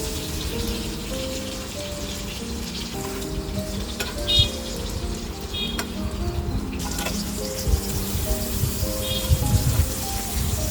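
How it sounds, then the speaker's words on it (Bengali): Eggplant slices fry in hot oil in a frying pan over medium heat, giving a dense, continuous close-up sizzle with occasional light clicks, and no talk. "ফ্রাই প্যানের মধ্যে এই তেল গরম করে তারপর দিয়ে দিলাম এই বেগুন ঘুরিয়ে ঘুরিয়ে ভেজে নিচ্ছি"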